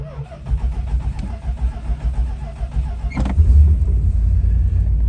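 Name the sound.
1965 Chrysler 300L engine starting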